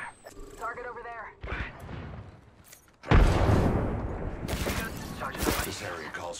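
Gunfire in the shooter game Apex Legends breaks out midway, a loud sustained burst of shots and impacts following quieter voice lines earlier, with an in-game character speaking over parts of it.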